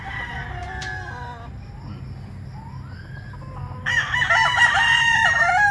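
An Allen Roundhead rooster crows loudly nearby, with a second crowing call and clucking layered over it, outdoors.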